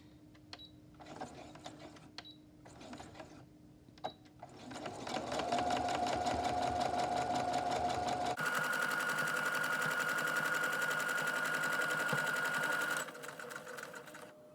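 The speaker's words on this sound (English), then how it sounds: "I'm going to take it to my machine and sew here and here." A sewing machine stitches the fabric band piece of a child's double-sided bucket hat. A few slow, separate needle clicks lead into a steady, loud mechanical whir that shifts pitch partway through, then stops and leaves quieter handling sounds.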